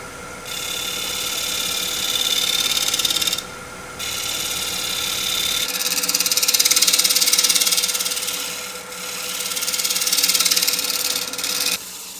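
A wood lathe spins a turned vessel at about 800 RPM while a tool works the outside, giving a steady whine with a scraping, rasping hiss that swells and fades in passes, broken by brief pauses.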